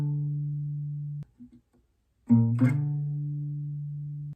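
An electric guitar plays a looped riff with sustained low plucked notes and a slide, then a short silence before the next sustained note rings on, close and clean with no voice.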